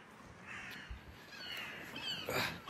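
A crow caws a few times outdoors in cold weather, the calls moderately distant and thin over a steady background hiss with no talking.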